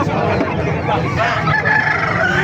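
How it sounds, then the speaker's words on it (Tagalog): A rooster crows loudly at a poultry market in Calumpit, Bulacan, against a dense, noisy background of other birds and general commotion. "Sisipan natin mga manok dito"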